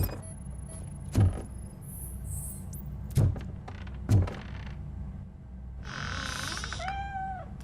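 A cat meows in Robocop Rogue City, with a few short mewing calls near the end. Heavy thuds of metallic footsteps sound earlier, over a low ambient hum.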